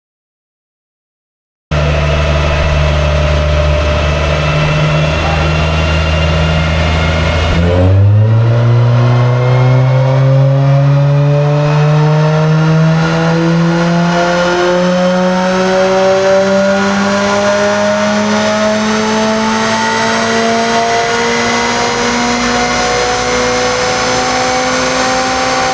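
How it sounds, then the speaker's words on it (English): A Mazda Miata ND2 runs a third-gear dyno pull: after a short idle, the engine climbs in one long, loud, steady rev sweep, rising pitch sustained to the end with no talking. "we're going to go ahead and do another pull in third."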